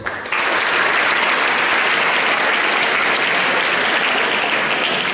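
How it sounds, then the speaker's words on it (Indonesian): Steady applause from a crowd at a seminary during a governor's visit, loud and sustained throughout with no break, a dense clapping wash filling the whole stretch. "tepuk tangan buat Kisol ya"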